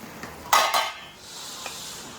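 A spoon scrapes and stirs through prawn curry in a pan as chili powder is mixed in: one loud clattering stir, then softer scraping and faint sizzling.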